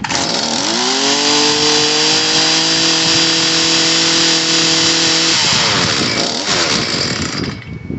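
A Stihl FC55 edger's small two-stroke engine, just fired after its carburetor and fuel line repair, runs loud and close with a buzzing whine, then shifts pitch as it comes off choke.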